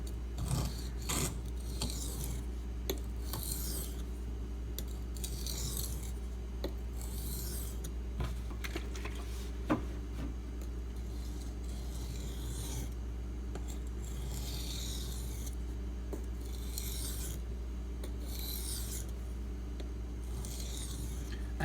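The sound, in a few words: knife sharpening on a whetstone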